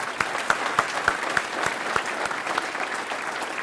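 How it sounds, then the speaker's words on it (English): Applause at a Quincy Area Chamber of Commerce agricultural banquet: a room full of people clapping steadily, with a few sharper claps standing out close by, and no talk over it. "Let's give him another round of applause."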